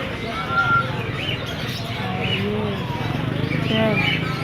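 A pair of pahari parrots at a busy bird market give repeated short, bright calls, rising and falling chirps over a constant crowd murmur and nearby voices.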